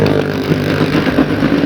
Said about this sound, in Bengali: ওখানে বিশেষ আকর্ষণ আছে মরণ কুয়া।